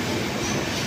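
Madhumati Express train at a station, a dense continuous rumble and rail noise throughout a very short moment, fairly loud and unbroken.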